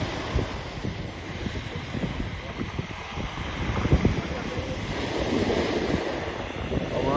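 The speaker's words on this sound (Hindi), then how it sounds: "समुद्र देख रहे हैं आप, जो पानी की लहर है, तो लो आप लहर देखो।" Sea waves break and wind rushes along the shore at Batumi, Georgia, a steady broadband wash of surf with gusty microphone wind noise throughout, fairly loud and continuous.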